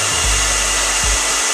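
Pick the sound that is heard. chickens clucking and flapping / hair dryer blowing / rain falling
hair dryer blowing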